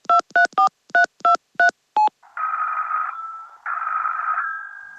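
Telephone number dialed in a radio play: a quick run of seven clear touch-tone beeps in uneven rhythm, followed by two long buzzing ringback tones separated by a steady hum, all loud and close with no voices.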